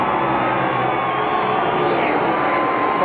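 A huge crowd of about 100,000 Mexican fans at a NASCAR Busch Series race in Mexico City roars with cheers and whoops, a steady, dense wall of noise from start to finish.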